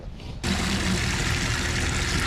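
After a brief quiet moment, water suddenly begins pouring steadily into a container with ice in the bottom, a loud, close, continuous rush lasting to the end.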